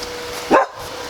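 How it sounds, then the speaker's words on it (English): A single loud, close bark from a dog outdoors, a short sharp woof standing alone against quiet background. "Don't ignore your dog, it's always telling you something."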